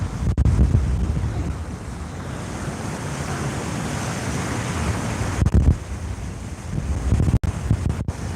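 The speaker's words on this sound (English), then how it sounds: "Yeah, this wind is brutal." Strong wind roars steadily at a fishing spot by the bank, buffeting the microphone with loud gusts, mixed with a surf-like rush of water; no talking.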